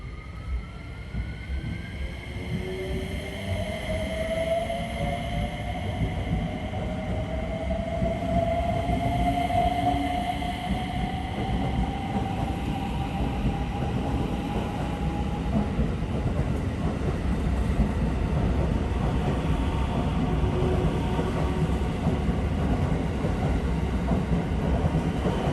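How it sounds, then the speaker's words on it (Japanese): A Shinkaisoku rapid train departs Himeji station, its motor whine rising steadily in pitch over a continuous rumble of wheels, close and sustained. "そして次に新快速電車も発車します。"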